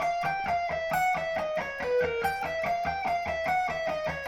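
An electric guitar plays a fast neoclassical hybrid-picking lick, a rapid even run of picked notes that steps down in pitch and repeats. It sounds close and clear, with no talking.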